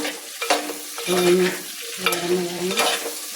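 Okra sautéing in a hot pan, steady close sizzling with repeated scraping stirs of a spoon against the pan, each stir sweeping through at an uneven rhythm.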